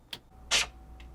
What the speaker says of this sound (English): Now here's the sound of the foot dragging across the grip tape.